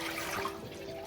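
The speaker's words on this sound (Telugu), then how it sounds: "సో నేను 4 కప్పుల నీళ్ళు ఇందులో పోసుకుంటున్నాను" Water poured into a cooking bowl while making a sweet prasadam, a steady faint splashing rush of liquid heard alone for about a second.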